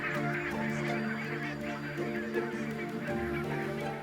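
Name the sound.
barnacle geese honking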